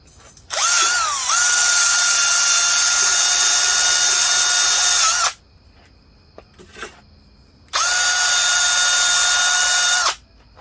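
A power drill whines loudly at high speed for several seconds, stops briefly, then runs again in a second long burst, with grinding scraping against a gasket surface during a top-end teardown of a KE100 motorcycle engine.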